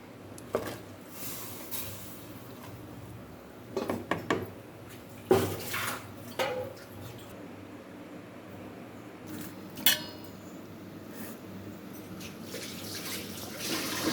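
Water runs and sloshes at a sink with scattered clinks and rubbing sounds as dried fish is rinsed by hand, fairly quiet and close.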